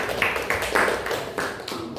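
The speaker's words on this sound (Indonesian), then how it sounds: "Kemudian kita berikan aplaus dulu untuk kelompok" Scattered clapping from a classroom audience applauding a student group's presentation, light and uneven hand claps repeating every fraction of a second without talk.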